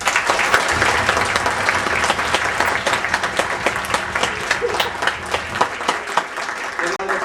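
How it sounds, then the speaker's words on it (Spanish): An audience in the Teatro Rodolfo Usigli applauds in a steady, dense wash of clapping that holds strong before thinning out near the end. "Quisiera pedirles por favor un fuerte aplauso a mi compañera Mariana Díaz."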